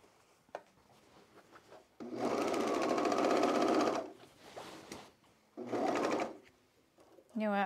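A sewing machine stitches denim jeans fabric in two loud, fast runs, one about two seconds long and a shorter one later. Quiet handling and rustling of the fabric come between the runs, and a voice speaks briefly in the quieter stretches.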